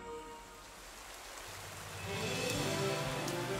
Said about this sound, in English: Ah, lovely rain.